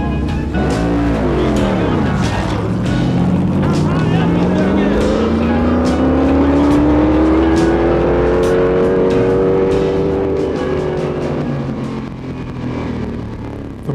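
A Lola T70 V8 long-distance racing car at a Belfast motorsport festival, engine revving loudly up through the gears as it accelerates close by, rich V8 roar rising steadily then fading slightly, with talk over it.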